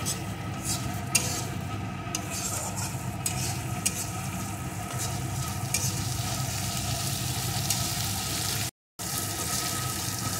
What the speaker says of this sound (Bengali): এখন সমস্ত মশলাটা একটু কষিয়ে নেব।